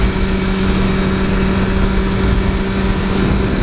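A 2015 BMW S1000R motorcycle engine drones steadily and loudly at constant revs with a buzzing hum and wind noise, as if heard while riding, with no talk.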